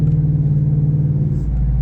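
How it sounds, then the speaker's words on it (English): Deep, steady exhaust rumble from a truck while driving, loud and close with a constant low drone and a slight shift in engine note near the end. "That exhaust. They totally did that exhaust so right in this truck."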